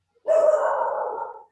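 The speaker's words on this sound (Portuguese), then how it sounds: "Peraí que eu vou fazer o cachorro ficar quieto." A single drawn-out dog bark or whining yelp indoors, loud and close, lasting about a second with no talk over it.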